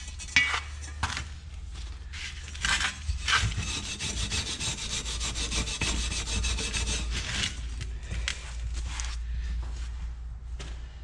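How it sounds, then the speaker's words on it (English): A motorcycle exhaust head pipe from a Yamaha Raptor 350 being scrubbed clean, a continuous close rasping rub in long back-and-forth strokes with a few brief pauses, no talking. "We're just going to keep scrubbing it."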